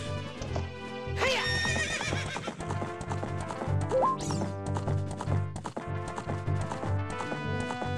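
A horse in the video game Zelda: Ocarina of Time whinnies loudly and then gallops with rapid, rhythmic hoof clip-clops, layered over game music and effects, without speech.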